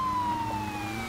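Ambulance siren in the Poly Bridge 2 game, a steady electronic wail sliding slowly downward in pitch over a low rumble of background noise, brief and fairly loud.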